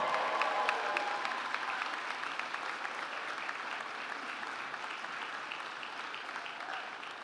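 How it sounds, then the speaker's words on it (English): Steady applause from a large graduation ceremony audience, with some cheering mixed in, continuing throughout at a moderate distance. "I think they deserve a massive big cheer"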